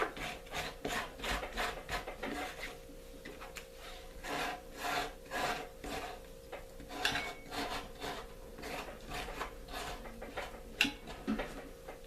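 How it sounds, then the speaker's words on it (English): Gelatin and glycerin are scraped out of a container in short rasping strokes that repeat irregularly at close range, soft and dry, with no talking. "So we just want the gelatin out of it, the glycerin. Let's scrape this."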